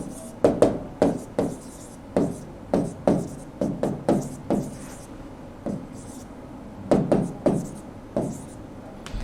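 Marker or chalk strokes on a board while a math differentiation problem is worked out, a series of short scratchy taps and rubs in irregular bursts, fairly close and alone.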